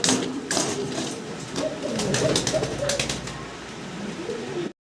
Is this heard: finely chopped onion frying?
no